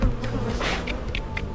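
Honey bees buzz close by during a honey harvest as they are brushed off the frames, a dense continuous drone with several louder passes of individual bees flying near.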